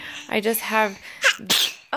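A woman sneezes sharply once, close by, surrounded by brief casual speech.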